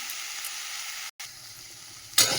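Food frying with chilli powder and cut dried red chillies, a steady sizzle that drops out briefly, returns quieter, then swells into a louder burst of hissing at the end.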